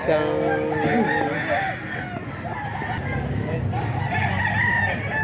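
A straight comb Tornado breed rooster crows loudly and close, a long wavering call near the start followed by more crowing and clucking, with other birds and background noise around it.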